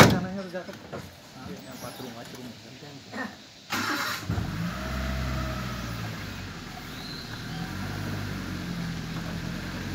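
A safari vehicle drives through jungle near Bor dam. Its engine picks up and then runs as a steady mid-pitched drone while people talk over it.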